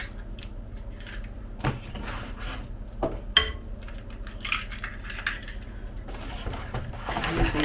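Five eggs are cracked into a bowl for birthday cake batter, with sharp taps and cracks, clinking of shells against the bowl and soft crunching, spaced irregularly up close and fairly quiet.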